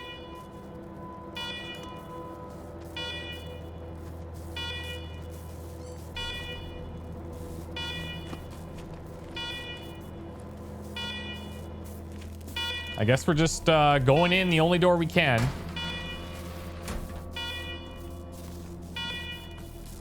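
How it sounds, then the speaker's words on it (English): Alarms blare inside a compound in Wasteland 3, sounding as a warbling siren that swells loudly for a couple of seconds. Steady rhythmic electronic beeps and a low hum run beneath, and someone talks over part of it. "Alarm, alarm, alarm. I hate alarm."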